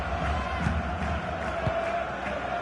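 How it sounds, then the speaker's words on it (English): Stadium crowd in the FC 26 football game keeps up a continuous far-off roar with mild swells of cheering, dense and steady throughout. "just listen to this crowd"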